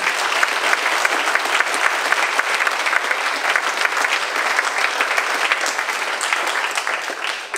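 A large audience at the Big Brother Awards 2019 gives warm, sustained applause for a speaker, a thick, continuous roar of clapping hands, loud and even throughout.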